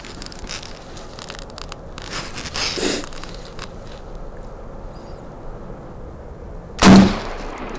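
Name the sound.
turkey shotgun shot fired at 20 yards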